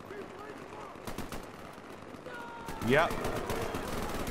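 Gunfire at the Terminator in Garry's Mod, scattered shots in the distance with a louder burst late on, while a person briefly speaks over it.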